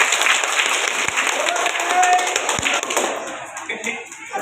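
A crowd of wedding guests in Hanoi applauds in a sustained burst of clapping with a talking voice over it, the claps thinning toward the end.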